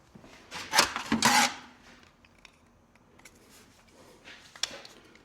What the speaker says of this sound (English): Let's pop the bowl off and have a look.